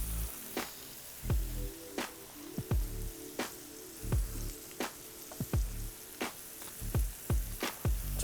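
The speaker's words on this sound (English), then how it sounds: "we're gonna throw down another pad of butter to melt on top of our flipped burger" Burgers and a pat of butter sizzle on a Steelmade flat top griddle, a soft continuous fry broken by repeated sharp scraping or tapping hits at a steady pace.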